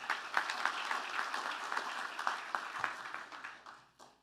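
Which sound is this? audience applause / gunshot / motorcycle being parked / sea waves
audience applause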